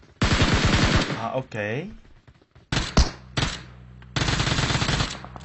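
Rapid gunfire bursts from the mobile battle royale game PUBG Mobile, loud close volleys of automatic shots in several separate bursts, with players chatting over the game audio.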